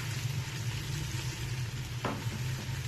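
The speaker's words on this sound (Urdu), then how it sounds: "ابھی میں اس میں یہ ادرک لہسن پیسٹ ڈالوں گی۔" Ginger garlic paste frying with golden-brown onions in a pan gives a soft, steady sizzle, faint and continuous, with one brief scrape of stirring partway through.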